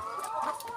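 Laying hens cluck briefly in a coop housing many birds, a soft, close murmur of short calls over low background noise.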